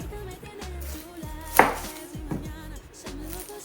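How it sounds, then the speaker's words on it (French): An onion being chopped with a knife on a board, giving a few soft, irregular knocks close by, with one sharper, louder cut near the middle. "Là, je vais couper l'oignon"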